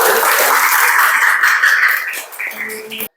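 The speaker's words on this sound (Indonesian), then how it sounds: "Tepuk tangan untuk" A classroom group claps for a presentation group during a school teaching practicum session, a dense burst of clapping that thins out and tapers off over about three seconds before stopping abruptly.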